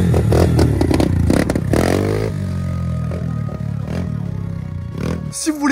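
A motocross motorcycle engine revs up and falls back in rising and falling pitch sweeps, close and loud, with some clattering and voices mixed in.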